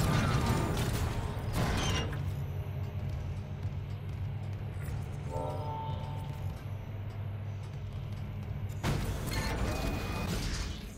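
A heavy mechanical door mechanism in Dead Space Remake grinds and creaks open over a loud, sustained low machine hum. Clunks and ratcheting gear sounds sit near the start and end, with no talk over it.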